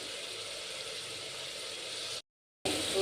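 Masala spices, raw ginger, garlic, curry leaves and a little coconut fry in a pan with softened onions for egg biryani, giving a steady close hiss that cuts out briefly before resuming.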